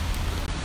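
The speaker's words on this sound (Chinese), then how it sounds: "今日咧系好大雨啊" Heavy rain pouring down outdoors at a street protest, a steady dense hiss filling the whole short moment with no voices.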